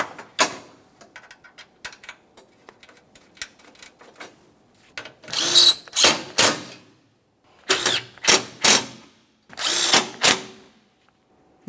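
A power tool snugs a 10mm-headed bolt at the bottom center of a radiator cooling fan assembly on a 2017-2024 GMC Acadia, with scattered clicks and handling noises followed by several short, loud, close bursts of whirring.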